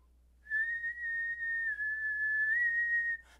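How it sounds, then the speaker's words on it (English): A person whistles by blowing air outward, holding a single clear, sustained tone that wavers slightly in pitch for about three seconds, close and alone in a quiet room. "If you can whistle, and there are different ways that people whistle, if you can whistle blowing out"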